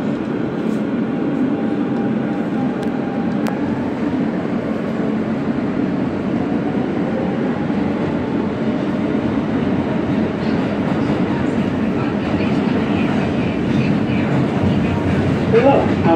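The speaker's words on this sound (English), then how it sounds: "Jamaica Center-Bound E Express Train" A Siemens R160B E express subway train in New York rumbles along the rails with a constant loud roar and faint squeals, heard from inside the car, with voices faintly underneath.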